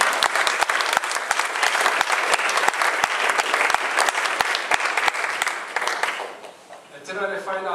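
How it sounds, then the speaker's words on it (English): An audience at a Hawaiian community talk on caring for the land breaks into sustained applause with a few sharp individual claps, fading as a voice begins speaking at the end. "So I want a round of applause for this guy,"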